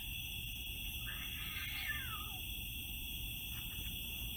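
A cat gives a single faint, drawn-out meow that rises and then falls, nearly buried beneath a loud, steady electronic hum and hiss.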